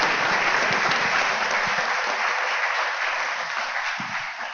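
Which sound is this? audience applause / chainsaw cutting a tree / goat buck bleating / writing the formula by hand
audience applause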